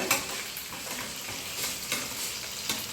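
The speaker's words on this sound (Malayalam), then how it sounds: "ഇനി ഓരോ സൈഡും ഫ്രൈ ആയി വരട്ടെ ഈ രീതിയിൽ" Chicken pieces for Kerala-style chilli chicken fry in oil, giving a steady close hiss and crackle with light stirring scrapes. No speech over it.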